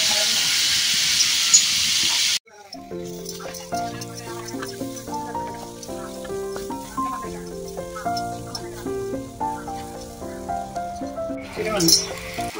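Salted ingredients sautéing in a pan for a Travancore-style crab roast with coconut milk give a loud, steady hiss for about two seconds, then cut off abruptly as instrumental music takes over.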